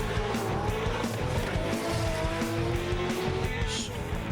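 A loud, continuous roar of a Nissan GT-R race car engine at high revs, with a tyre squeal rising as the car speeds past.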